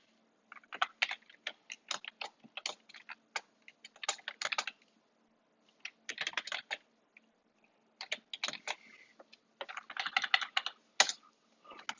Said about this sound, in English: I'm typing into my calculator or into Desmos this